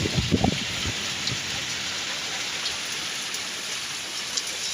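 Steady rain falling outdoors, an even close hiss of drops on surfaces, with a few faint knocks near the start.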